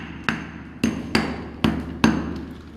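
Five sharp hammer blows on rock inside a cave, spaced irregularly about half a second apart, each a loud ringing crack over a low steady hum, with no talking.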